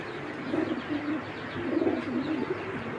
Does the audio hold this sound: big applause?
no